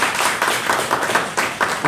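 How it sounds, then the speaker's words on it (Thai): An audience applauds a speaker at an oil party held at The Phyll, a steady dense clapping throughout with no talk on top. "ปรบมือให้คุณหมอตาอีกรอบนึงครับ"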